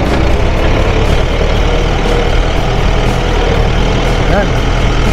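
A tractor engine runs with a steady, heavy, low rumble during a sugarcane harvest, close and loud throughout, while someone talks over it.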